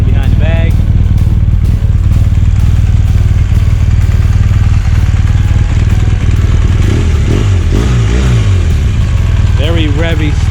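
A 2019 BMW motorcycle engine idles loudly and close, then revs up sharply several times in quick bursts toward the end.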